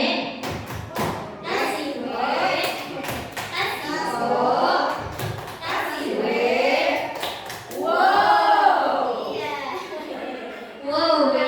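A group at a teachers' school workshop performs the 'tepuk wow' clapping cheer: sharp, rhythmic hand claps and thumps paired with loud chanted group voices, then more chanting and talk.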